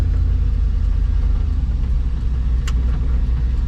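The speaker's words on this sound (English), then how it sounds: "just gonna drive down the main street on the way out of town." Car driving along the main street of Terowie, a near-ghost town in South Australia, heard from inside as a steady low engine and road rumble with no talking.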